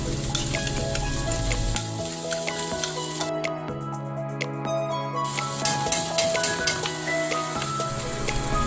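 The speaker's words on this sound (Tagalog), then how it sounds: "Igisa-gisa natin para mag-blend ang mga ingredients." A tofu sisig mayo mixture sautéing in a pan gives off a continuous close sizzle with faint stirring. It plays over a steady tonal background with no one speaking.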